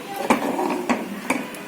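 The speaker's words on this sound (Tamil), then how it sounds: "நல்லா கலந்து விடணும்." A spoon knocks against a pot three times at an even pace while curd is stirred into a simmering buttermilk curry on a gas stove, with a soft bubbling underneath.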